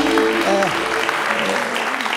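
Studio audience applause on a Turkish matchmaking TV show, a short burst of clapping heard under a voice singing or calling out.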